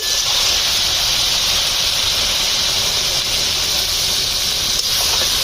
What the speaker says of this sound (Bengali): বন্ধুরা ঢাকনাটা খুলে নিয়েছি আর উপর থেকে আমি জল দিয়ে দেবো